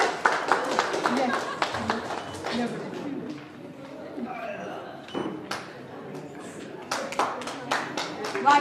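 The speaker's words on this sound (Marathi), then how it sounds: "टाळ्या वाजून स्वागत करूया आपण." Guests at an art exhibition in Pune are welcomed with a crowd's hand clapping, which comes in bursts of sharp claps, thins out briefly in the middle, then swells again while people talk over it.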